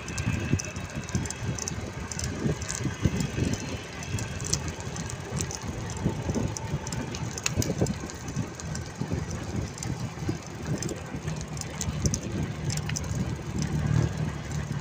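Steady roar of traffic on a highway to Roro Port, heard from a bicycle lane, with a continuous rumble of passing cars and engines, moderately loud throughout.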